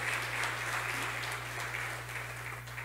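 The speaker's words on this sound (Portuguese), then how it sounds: "Então aplauda ao Senhor Jesus, meu querido." Steady applause from a church congregation fills the whole stretch, with a low electrical hum underneath.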